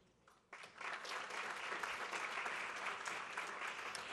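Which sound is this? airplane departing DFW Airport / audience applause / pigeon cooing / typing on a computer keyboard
audience applause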